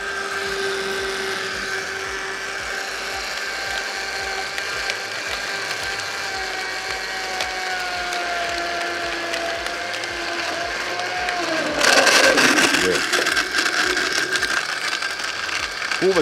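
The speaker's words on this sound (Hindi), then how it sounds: "और इसके बाद इसको हम करेंगे ब्लेंड।" A kitchen blender runs steadily on 7 Up for a sweet daiquiri, giving a continuous mechanical whir with a tonal hum. Near the end it grows louder and rougher.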